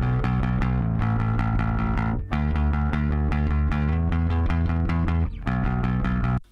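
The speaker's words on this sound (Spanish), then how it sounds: "Y ahora voy a ir sumando esa distorsión." Cheap bass guitar recorded direct by line, now with distortion added, sounding as a loud, sustained, gritty bass line with steady notes and two brief dips, playing alone with no talk.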